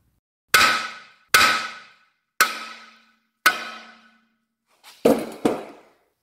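Hammer striking the steering knuckle of a VW Jetta/Golf mk4 to separate the ball joint: six sharp metallic clangs, four evenly spaced, then a quick double blow, each ringing briefly, close and loud.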